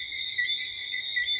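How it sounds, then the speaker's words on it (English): Tree frogs call loudly in an evening chorus among many garden trees, a steady, shrill, high-pitched trill that holds unbroken throughout, with nothing else heard and no speech. "the tree frogs are loud."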